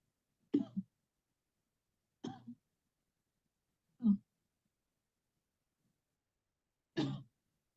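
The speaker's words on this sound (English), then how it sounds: "And then you're gonna cough." A person coughs four separate times during a guided breathing exercise, each cough short and husky, with long silent pauses between them.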